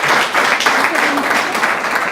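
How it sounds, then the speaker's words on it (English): Audience applause at the SAIEE CGC AGM 2018, a steady wash of clapping from a seated crowd lasting the whole moment, with faint voices mixed underneath. "A round of applause for them"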